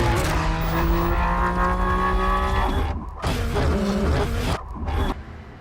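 A 2016 BMW F82 M4 without the Competition pack, its engine note loud and steady with tire noise, then changing pitch as it drives and shifts, with brief dips between bursts.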